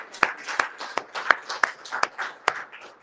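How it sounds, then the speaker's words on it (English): Scattered claps from a small group in a conference audience at a legal summit, about seven sharp distinct slaps spread irregularly over a few seconds, fairly close and moderately loud. "A round of applause."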